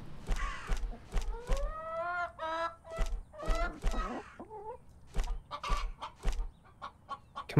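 Chickens cluck repeatedly in a farming horror game, a run of short, loud, close calls with rising squawks between sharp thumping footsteps.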